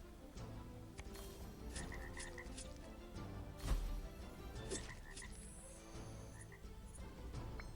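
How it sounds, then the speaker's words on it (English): Frog croaking in the video game Transformice Adventures, short repeated game croaks over busy background music and effects, fairly quiet overall. "Now that is a strong frog"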